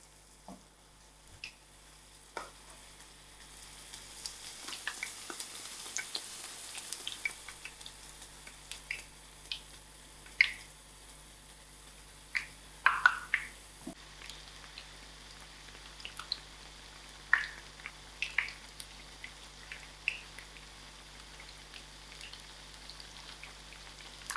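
Battered brinjal slices frying in hot oil, with a steady faint sizzle and scattered sharp pops and crackles spread across the whole stretch, no voices.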